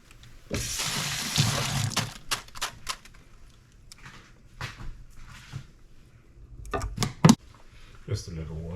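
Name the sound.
pouring a little water into the pan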